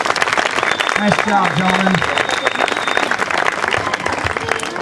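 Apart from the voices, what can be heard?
audience applause for contestants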